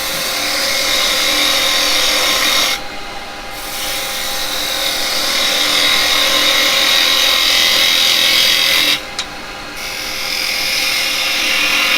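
A turning tool cuts steadily into a piece of firewood spinning on a wood lathe, a loud, continuous close-up scraping hiss that briefly stops twice between passes.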